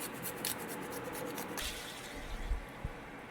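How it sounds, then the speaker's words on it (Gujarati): A piece of ginger is grated by hand into a biryani masala, giving a steady, rhythmic rasping scrape close up that stops partway through, followed by a couple of soft thuds. "આદુનો ટુકડો એક લીધેલો છે, એ એડ કરું છું આમાં ખમણીને."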